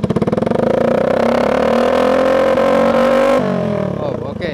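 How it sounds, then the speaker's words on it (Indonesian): Yamaha Vixion motorcycle with an aftermarket exhaust on its loud adjustable sound setting, revving hard in a sustained, loud, raspy roar that drops off near the end. "Setelan suara knalpotnya ya. Suaranya auto berubah, boy."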